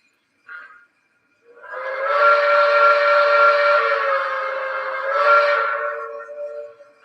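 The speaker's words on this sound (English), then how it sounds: "here is my favorite whistle, probably in my collection thus far" A model train steam whistle blows loud and close, a brief toot followed by one long sustained blast that swells again near the end before fading.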